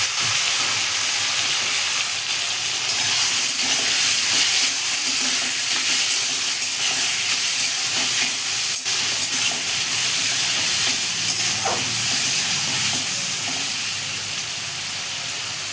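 Tomato paste and spice pastes sauté with fried potato and eggplant in a pan, giving a loud, steady hiss and sizzle with occasional stirring scrapes throughout.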